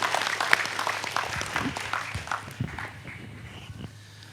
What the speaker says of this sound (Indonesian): tepuk tangan semua teman-teman sekalian